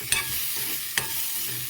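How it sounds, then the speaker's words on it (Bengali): Shrimp fry over a low gas flame, a steady bright sizzle from the pan broken by two sharp scraping clacks as a spatula stirs them, close and with no talking. "এরপরে একটু নাড়াচাড়া করে নেব। চিংড়ি মাছ তো বেশি ভাজা যায় না।"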